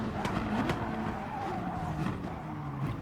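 A Gr.3 race car spinning and skidding on the Tokyo Expressway South Inner Loop circuit in Gran Turismo Sport, with tire squeal and engine whine rising and falling under a steady roar, moderately loud.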